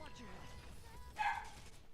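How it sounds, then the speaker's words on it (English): A dog gives a single short, sharp bark partway through, fairly close, set against a quiet background murmur. "my dog just barks and barks for no reason"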